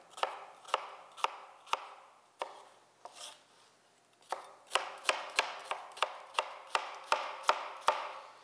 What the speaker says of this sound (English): we're gonna cut the little cuts, watching that the tip of my knife doesn't go through the end of the onion